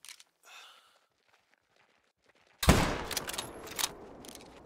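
A single loud, close gunshot from a big hunting rifle in theHunter: Call of the Wild, cracking out of near silence and leaving a long rumbling echo as it rolls away.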